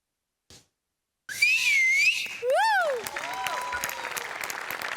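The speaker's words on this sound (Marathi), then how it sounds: "तुमच्या दोघांसाठी होती शिट्टी" An audience at a comedy show whistles loudly after a performance, with long rising and falling whistles over clapping and crowd noise, following a moment of near silence.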